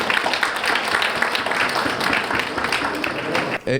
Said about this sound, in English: big rounds of applause for NCGO, please